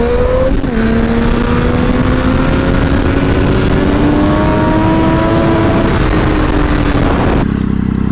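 Six-speed sport quad accelerating in first gear, engine note climbing steadily after a quick blip, loud and near throughout, then cutting off abruptly near the end.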